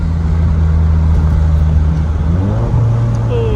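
Big turbo Ford Ecoboost car on the road, steady loud engine drone with a pitch drop and rise near the end as it downshifts, close and continuous with no talk.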